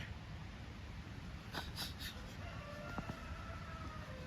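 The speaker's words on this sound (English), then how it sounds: "woods roosters" Roosters crow in the woods near a river bridge, a couple of faint, distant calls rising over a steady outdoor background hiss and low rumble.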